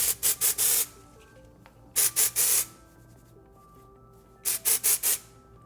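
Dry shampoo is sprayed and rubbed into hair in three separate groups of quick brushing strokes with quiet gaps between them, close up and with no talking.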